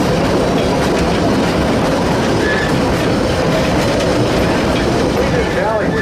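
Cars of the Chama narrow-gauge tourist train roll along rails through a mountain valley, a loud continuous rumble with steady clickety-clack and brief wheel squeals.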